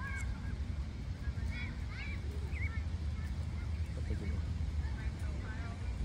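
Ducklings of a duck family on water at a park where people are fishing give faint, high chirping peeps scattered over a steady low outdoor rumble.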